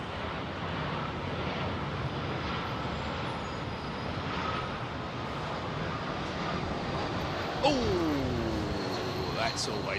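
An Emirates Airbus A380 airliner on landing approach to London Heathrow, its broad engine roar steady and loud throughout, with a brief rising whine and a sharper noise near the end.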